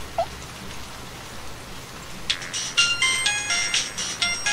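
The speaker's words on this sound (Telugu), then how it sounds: "మళ్ళీ వర్షం పడుతుంది" Rain falling outside at night, a soft steady patter that builds into brighter, louder spattering drops partway through, with no voices present.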